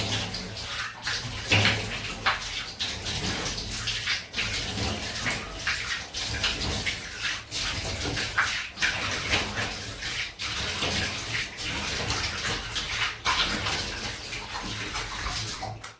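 Water runs steadily from a tap or into a tub as someone rinses off after a close shave with a Karve Christopher Bradley safety razor, a loud, continuous splashing rush with a few brief spikes and no talking.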